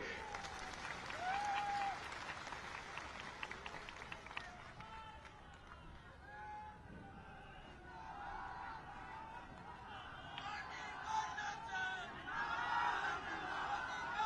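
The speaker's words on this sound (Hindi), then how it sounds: "सच हो तो तालियां बजाइए।" At a Parivartan Yatra political rally in Hardoi, Uttar Pradesh, an outdoor crowd claps, faint and distant, mixed with murmuring chatter and scattered voices, swelling slightly toward the end.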